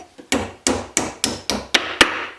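A Japanese hammer taps hardwood dowels through a hole drilled with a 1/4 inch brad point bit, giving six sharp, evenly spaced close strikes with no voices.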